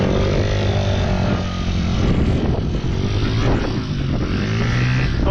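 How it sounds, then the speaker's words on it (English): A racing car engine runs loud and close as it is driven into a garage, a rough, continuous idle-to-rev rumble with small throttle swells throughout. "Go drive it in the garage."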